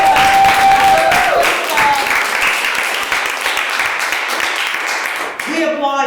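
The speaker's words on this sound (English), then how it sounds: "We applaud you." Audience applause at an empowering women award presentation, a dense wash of clapping filling the room before fading out near the end, with voices mixed in.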